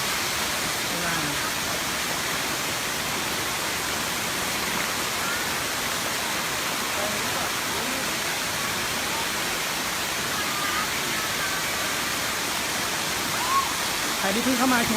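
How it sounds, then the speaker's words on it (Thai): Rushing water pours down the seventh tier of Erawan waterfall, a steady, broad hiss of falling water filling the scene continuously and loudly, with faint talk in the background. "คือน้ำตกสวยไหมครับน้ำตกสวยมากนะฮะ"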